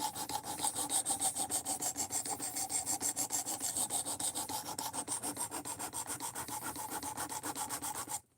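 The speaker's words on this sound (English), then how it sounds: "So I'm having to hog off way more material than I want to on a 220 grit stone." Steel tool rubbed back and forth on a 220 grit sharpening stone, a steady rhythmic scraping rasp of quick regular strokes at close range, continuing for about eight seconds and then stopping abruptly.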